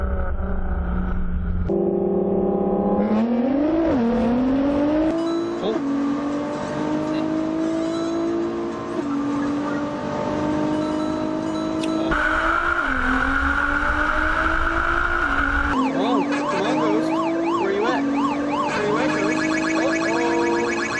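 Nissan GT-R cars racing from a 20 mph rolling start. The engines roar loudly and continuously, each rise in pitch ending in a gear shift, with one engine note climbing over another and no talk.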